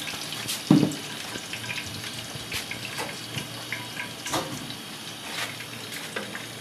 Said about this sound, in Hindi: ये मैं 2 चम्मच इसमें ऑयल डाल दूंगी और भिंडियों को फ्राई करूंगी मैं।